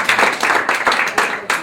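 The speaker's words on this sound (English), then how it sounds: "Applaudissements." An audience at a November 2019 conference presentation applauding, a dense, even patter of many hands clapping at close range, steady and fairly loud throughout the short burst.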